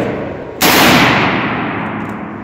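A single loud G36 rifle shot cracks sharply after a short pause, followed by a long decaying echo that fills the rest of the moment.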